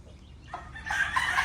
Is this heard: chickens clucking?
yes